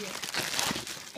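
An Amazon plastic bag crinkles and rustles as a PS4 is unboxed, a dense close-up crackling that swells and fades over about a second.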